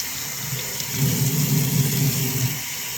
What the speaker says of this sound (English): Rinse it down real good.